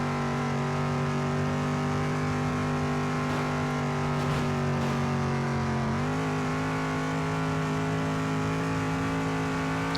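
A NASCAR-style race car in the video game Demolition Derby 3 drones steadily while riding along a wall. Its engine holds a loud, constant pitch, with a brief dip and recovery midway and no speech.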